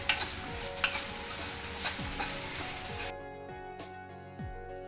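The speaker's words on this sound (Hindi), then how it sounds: "हम इसे तकरीबन 1 मिनट तक और चलाएंगे। बस ये अब धीरे धीरे और क्रिस्पी हो जाएगी" Crispy bhindi (okra) frying in a pan while a spatula stirs it, steady sizzling with repeated scrapes and knocks against the pan, close and clear, the sizzle dropping off suddenly partway through while the scraping continues.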